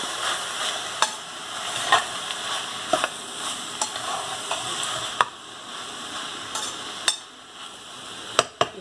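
Meat and tomato sauce fry in a pan for a lasagna, giving a constant close sizzle broken by sharp clicks and scrapes of a utensil stirring against the pan, with no talking.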